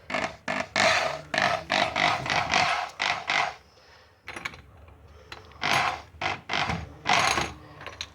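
A screw is driven into a plastic wall anchor in ceramic tile, giving loud, close, rhythmic ratcheting bursts from a hand driver in quick repeated strokes, with a brief pause midway.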